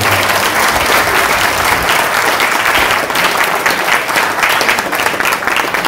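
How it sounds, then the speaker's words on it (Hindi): Loud, dense audience applause fills a farewell gathering for hardware, software and EMMC trainees at Asia Telecom, steady and continuous throughout with no break. "तो एक बार अपने लिए जोरदार ताली बजा दीजिए।"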